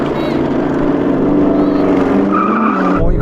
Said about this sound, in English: I just want to launch this car again because it's so much fun